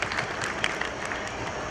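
Audience at a temple consecration ceremony for a Bhairav shrine in Richhed, clapping together in a steady, dense burst of applause.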